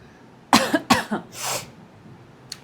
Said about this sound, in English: please pardon my coughs